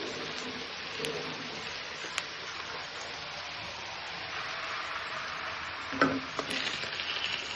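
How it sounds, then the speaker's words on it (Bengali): Butter melting in a hot pan gives a soft, steady sizzle with faint crackles and a few sharp clinks, quiet and even throughout, with no one speaking. "বাটারটা গলে যাবে, আমি এখানে রাখি।"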